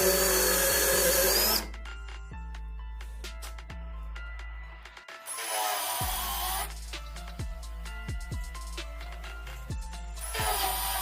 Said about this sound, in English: drilled out those spot welds right here